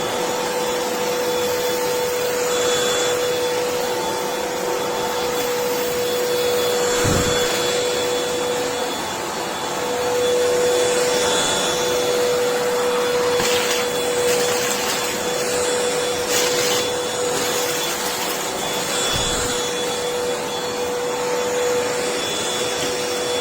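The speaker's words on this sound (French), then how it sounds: "J'allume l'aspirateur." An Amazon Basics cordless 2-in-1 stick vacuum cleaner with a 150 W DC motor runs steadily and loudly on a floor, a constant motor whine with airflow hiss and a few brief bumps and rattles, no voices.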